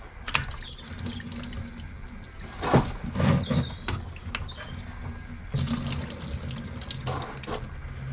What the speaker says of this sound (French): c'est d'ouvrir là, qu'il n'y ait pas trop de liquide qui coule, mais que ce soit récupéré en bas